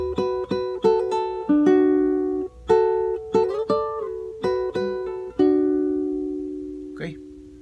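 A guitar plays a phrase from a Peruvian waltz, with plucked notes and short ringing chords in a lilting rhythm, close and clear, ending on a faint scrape.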